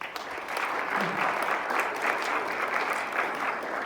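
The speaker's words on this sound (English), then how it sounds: "let's give them all a round of applause" A banquet crowd applauds steadily for a group of members gathered up front, dense even clapping that carries on for several seconds without letup.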